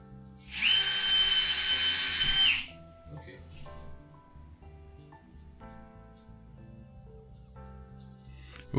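A power drill whirs in one loud, steady burst of about two seconds at a DIY home-decor build, then stops, leaving quieter room noise and faint clatter.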